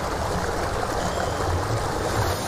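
Rushing floodwater effect for an Indonesian school stage drama, a steady broadband wash like a stream or surging current, loud and continuous throughout with no voices over it.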